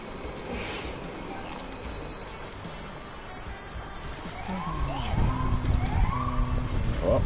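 Wailing police-style sirens rise and fall in a video game, starting faint and distant and growing louder over the last few seconds above a busy, noisy game background.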